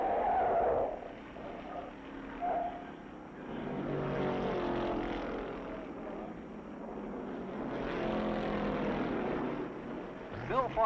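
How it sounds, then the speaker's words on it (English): A 1962 Pontiac NASCAR stock car spins out at turn 6 of the 1963 Riverside 500 road race, with a brief tire screech followed by faint, distant engine roars of cars sweeping past. "Bill Foster spins his '62 Pontiac"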